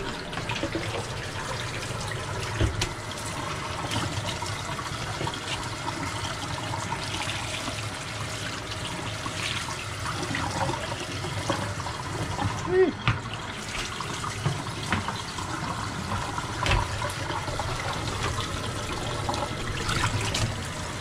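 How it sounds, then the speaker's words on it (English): Water poured out of a plastic container used for rinsing a blue and green spiral tie-dye T-shirt, a steady splashing trickle running throughout over a dense wet background. "Let me dump this water out real quick."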